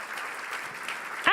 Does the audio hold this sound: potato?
no